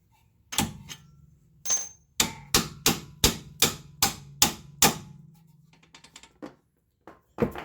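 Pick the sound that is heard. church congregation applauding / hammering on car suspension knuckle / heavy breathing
hammering on car suspension knuckle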